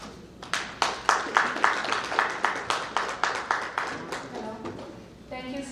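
An audience at a business expo claps for a speaker, a steady run of crisp, evenly spaced handclaps that stays close and prominent before trailing off, with a voice heard near the end.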